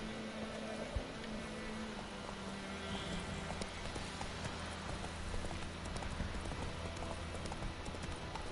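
Roach the horse's hooves clip-clop in The Witcher video game, a steady trotting beat that continues throughout under a soft, constant background wash.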